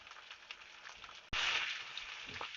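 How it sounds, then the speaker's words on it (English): Seasoned meat frying in a pan makes a close, steady sizzle. It starts quietly, then jumps to a loud, constant crackle partway through, with small pops throughout. "You can see they're sizzling away"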